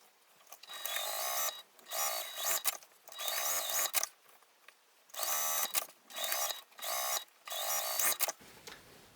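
A sewing machine stitching a bag lining seam runs in several short bursts of rapid mechanical whirring, with quiet pauses between each run.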